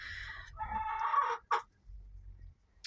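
Hens in a coop give a run of clucks and a short drawn-out squawk, close and clear, followed by a lull with only faint low background rumble.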